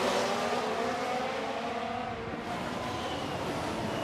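Formula 1 cars racing at Baku in F1 Manager 2023, heard as a continuous high-pitched engine whine that shifts in pitch and dips slightly mid-way, steady and fairly loud throughout, with no talking.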